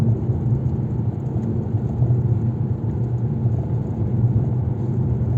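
Interior drone of a Fiat Egea Cross Urban 1.4 climbing a mountain road in fourth gear, a steady low engine and road rumble with no breaks.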